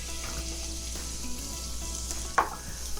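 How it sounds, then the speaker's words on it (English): Diced onions sauté in canola oil in a pan with a steady close hiss and crackle, a brief stirring scrape partway through. "go ahead and saute the onions. Put a little bit of canola oil. In goes the onions."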